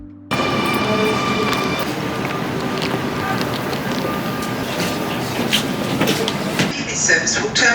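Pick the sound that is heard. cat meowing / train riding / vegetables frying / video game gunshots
train riding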